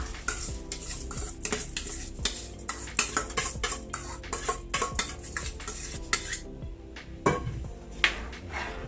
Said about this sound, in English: Now I'm gonna add my rice.